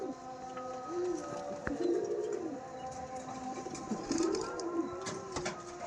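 Competition Madrasi pigeons coo in low, rolling bursts, several overlapping calls close by over a steady background hum and scattered clicks.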